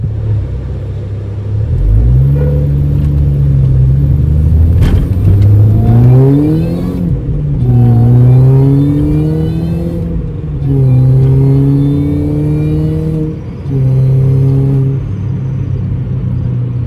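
A 2005 R53 Mini Cooper S with a previous running issue revs through the gears while driving, its engine note climbing repeatedly with gear changes, loud, close and steady with no talk.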